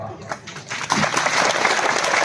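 Applause from an audience at a Hindi poetry recital, starting scattered and thin, then swelling near the one-second mark into dense, steady clapping that holds until the end.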